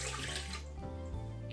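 Water pours in a steady, splashing stream into a bowl for the pita dough that goes with pljeskavica. The sound is close and loud, lasts about a second and a half, and comes without any voices.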